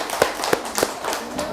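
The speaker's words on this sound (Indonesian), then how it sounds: "beri tepuk tangan untuk kita semua" A classroom group clapping in unison at a school session, three or four firm rhythmic claps over a steady murmur of room noise, fading out toward the end.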